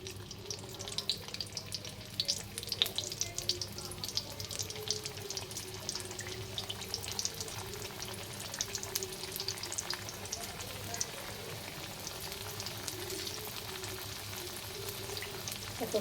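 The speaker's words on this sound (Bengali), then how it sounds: "দেখো তেল কিন্তু গরম হয়ে গেছে, এখন ভেজে নেব।" Potato and wheat-flour snack pieces deep-frying in hot oil, a steady dense crackling sizzle that runs unbroken throughout with no talk over it.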